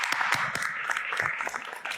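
Applause for a senator at a political event: a brief burst of many hands clapping, fairly close and steady, with a faint voice mixed in.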